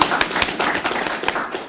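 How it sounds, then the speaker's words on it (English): An audience at a sentencing workshop's opening ceremony breaks into applause, with scattered, uneven claps and taps standing out close by for a moment. "I'm not sure if you're allowed to clap in this environment"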